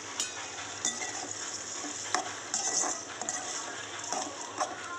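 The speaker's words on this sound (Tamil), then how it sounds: "உப்பு போட்டுக்கோங்க, உப்பு போட்டு நல்லா வதக்குங்க." Chicken pieces sautéed with salt in hot oil, a quiet continuous sizzle broken by scattered scraping and clinking stirs, near and without talk.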